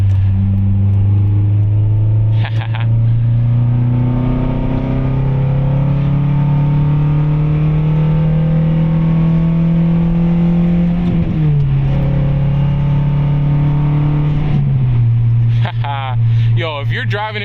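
A car engine hums steadily at low pitch while driving and merging onto the road, its tone rising gradually and shifting as it changes gear, with someone talking throughout.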